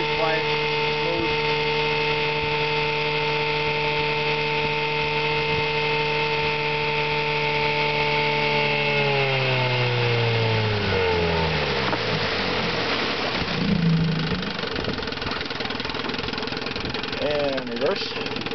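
A 1963 Johnson 5.5 hp outboard motor runs steadily with a smooth, quiet hum, then drops in pitch as it slows midway before picking back up; continuous and close throughout.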